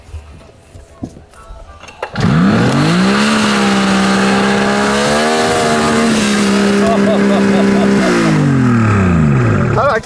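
A damaged 2001 Summit 700 snowmobile engine, leaking oil with a suspected blown chain case and unable to get past 3,000 rpm, starts up loudly after quiet background noise and revs steadily for several seconds before dropping off near the end.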